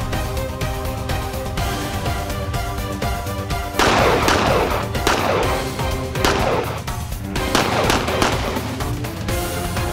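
Repeated gunshots fired at an electronic target system at a shooting range ring out loud and close, in irregular bursts of sharp reports with ringing decays.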